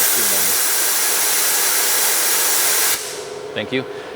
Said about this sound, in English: that's the air dryer